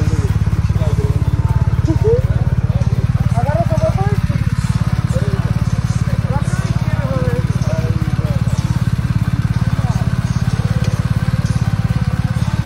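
A BMW RT sport-touring motorcycle at speed with a passenger aboard, its engine droning steadily and loudly throughout amid wind rush.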